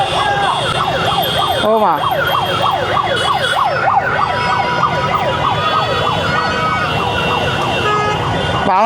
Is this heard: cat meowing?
no